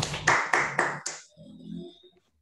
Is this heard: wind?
no